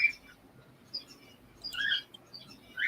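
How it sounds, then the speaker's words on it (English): A pet bird gives a few thin, high chirps and short calls, fairly faint and scattered over quiet room sound. "I hear your bird, Laura."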